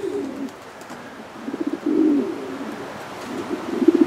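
Racing pigeons in a loft with young squeakers coo in soft, throaty bursts, several overlapping calls swelling and fading nearby, with no talking.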